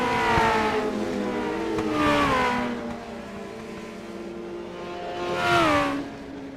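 Small-engine Legend race cars at a Knoxville dirt track at night, several high-pitched engines wailing as they pass by in loud surges, rising and fading with gaps between passes.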